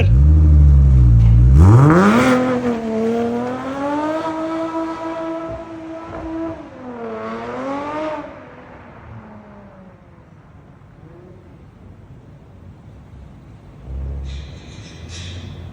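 A Porsche Panamera 3.6 engine with a remote-controlled valved performance exhaust revs hard, climbing and falling in pitch through a throaty exhaust, then settles to a low idle before a brief blip near the end.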